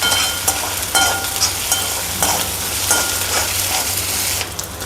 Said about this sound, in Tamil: வெங்காயம் வதங்கியிருக்கு